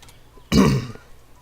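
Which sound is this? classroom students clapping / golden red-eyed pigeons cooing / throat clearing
throat clearing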